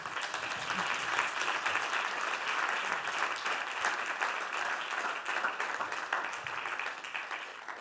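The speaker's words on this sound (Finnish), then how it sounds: "Annetaanko heille vielä aplodit?" Audience applause at a Finnish panel event on technology, participation and democracy, a steady dense wash of many hands clapping, fairly loud and even throughout with no voices over it.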